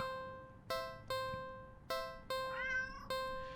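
A video game cat, found in a large cardboard box in a lonely alleyway, lets out a series of five or six distinct, bright meows with short gaps between them, the later ones more drawn out, with nothing else in the foreground.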